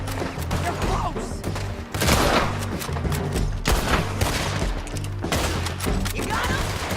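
Gunfire in Red Dead Redemption 2, with loud, close shots and bursts of rapid fire cracking repeatedly throughout, some booming impacts, and voices shouting over the fighting.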